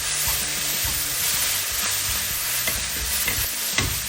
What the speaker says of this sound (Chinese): 倒入刚才炒好的鸡蛋， 继续翻炒